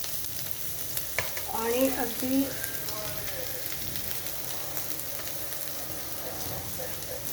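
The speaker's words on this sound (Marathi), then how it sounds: "परतून घेतलं आपण सुंदरपैकी." Vegetables sautéing in a pan give a steady close sizzle with stirring scrapes throughout, and a voice speaks briefly over it near the start.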